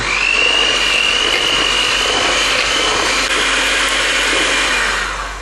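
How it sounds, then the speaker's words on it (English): Electric whisk beating thick, stodgy sugar mixture in a bowl while making a gypsy tart, a loud steady motor whine running unbroken for several seconds before easing off at the end. "it's going to need a darn good mixing with the whisk"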